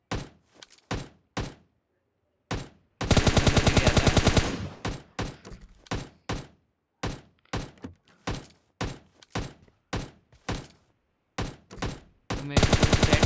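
Kar98 bolt-action rifle shots in a video game, arriving as sharp, loud, separate bangs at an uneven pace, broken by two longer stretches of dense rapid firing from other guns.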